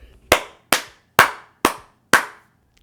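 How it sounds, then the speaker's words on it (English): Five slow, sharp hand claps ring out one after another at a steady, deliberate pace. They are close and crisp, each ending in a short room echo, with no talking. "So let's give a clap for him."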